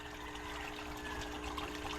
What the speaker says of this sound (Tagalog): Bakit mahina ang tulo?